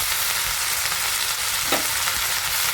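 Fenugreek leaves and green chillies sautéing in a pan, a steady close sizzle with a soft scrape of stirring partway through, no voices.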